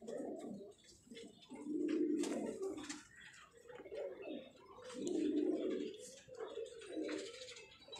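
Fancy pigeons kept in cages by a Karachi breeder coo in soft, low, repeated throaty phrases, close by, with gentle pauses between bursts and faint background noise.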